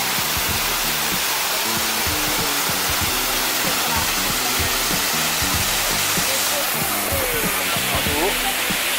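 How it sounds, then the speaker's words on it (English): Waterfall spray at the bottom of a fall in Plitvice Lakes National Park makes a dense, continuous hissing roar, loud and close, with low rumbling beneath and no voices. "Bottom of one of the waterfalls in the park, and it's a lovely spray at the moment off of it."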